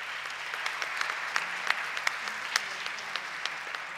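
Moderate applause from an audience at a national debate final, welcoming a jury member, with scattered sharp individual claps standing out over a steady wash of clapping.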